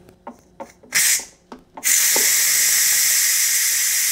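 A pressure cooker holding Taiwanese beef noodle soup is manually vented: a few short clicks and spurts, then a loud, close, continuous steam hiss that rushes on steadily to the end.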